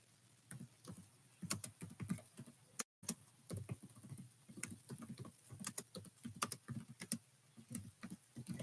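Fingers tap quickly on a computer keyboard with irregular bursts of light clicks and brief pauses, quiet and close, with no voices.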